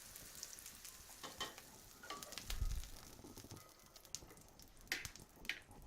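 Rabbit meatballs fry in a pan with a faint, steady sizzle, broken by soft crackles and an occasional clink of a utensil, heard quietly and alone.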